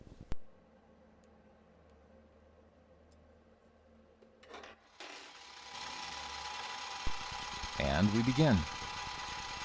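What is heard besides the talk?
boring head making a cut on a metal machining setup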